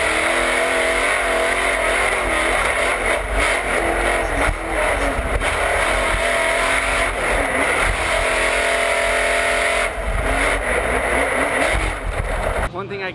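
Off-road race trucks with big, fast motors roar continuously nearby, engines revving and surging with brief dips, while a person talks throughout over the din.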